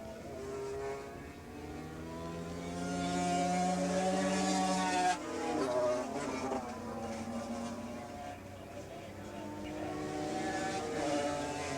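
Racing motorcycles from a 450/250 Super Street race scream down the front straightaway at Willow Springs Raceway, engines rising in pitch and swelling loud as they pass around the five-second mark, then fading into a lingering drone.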